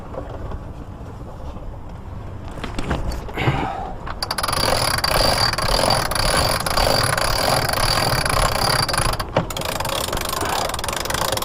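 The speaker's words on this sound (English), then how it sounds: "When it starts to get heavy, that's usually a sign that the front of the sail is coming down, in which case you can start to use the winch." A sailboat winch ratchets and clicks steadily while the sail is reefed, the mechanical grinding growing louder and denser after a few seconds and running continuously with no one talking.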